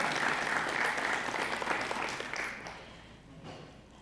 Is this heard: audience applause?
yes